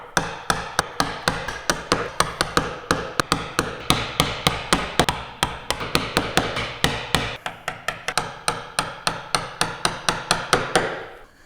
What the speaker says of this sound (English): I'm going to go back to the chisel, it's quicker